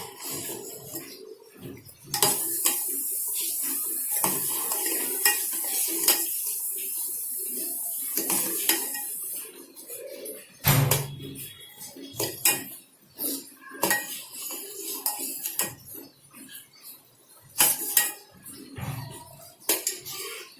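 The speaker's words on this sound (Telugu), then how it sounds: "ఈ సైడ్స్ కూడా మనం ఇలా తీసుకొని మళ్ళీ పాలల్లో కలుపుకోవాలి, సైడ్స్ అలా వదిలేయకుండా" A metal spoon scrapes the sides of a pan and stirs boiling milk being made into fruit custard, giving close, sharp clinks and scrapes in irregular bursts with quiet gaps between them.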